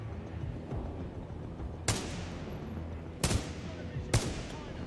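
Gunfire in the video game Titanfall: three sharp, separate shots cracking out at irregular intervals over a low, rumbling battlefield background, fairly distant and moderately loud.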